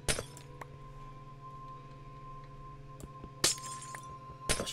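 Glass blocks shattering in the Minecraft video game, three sharp breaking crashes spaced apart over a steady hum of background game music.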